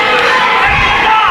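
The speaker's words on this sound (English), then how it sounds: "Crowd getting behind Josh King with the chance of USA" An arena crowd at a wrestling event cheers loudly for wrestler Josh King in a brief, dense burst of massed voices that fills the room.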